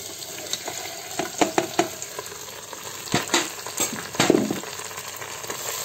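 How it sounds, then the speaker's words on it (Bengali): Quail legs hitting a pan of fried onions for a quail biryani, crackling and sizzling up close with scattered sharp pops and stirring clatter, no voices. "পেঁয়াজ ভাজা হয়ে গেছে, এটার মধ্যে মাংস দিয়ে দিই,"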